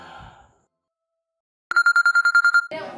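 A telephone rings in a quiet room, a burst of about nine rapid electronic trills over roughly a second, close and loud, after a soft breath and before a voice begins speaking.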